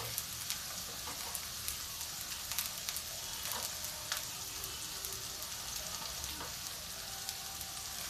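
Eggplant and boiled potato pieces fry in a pan, giving a steady, hissing sizzle with scattered crackles and pops throughout.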